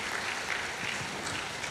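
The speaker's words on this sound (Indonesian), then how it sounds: "Jadi kasih tepuk tangan dong buat Esra" Church congregation applauding for Esra, a soft, steady patter of clapping from many hands that stays fairly faint and even for under two seconds.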